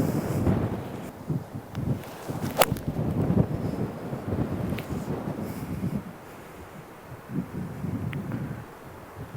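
Wind gusting across an outdoor golf course during a stormy match buffets the microphone with loud, rumbling, continuous blasts that rise and ease over several seconds, with no talk.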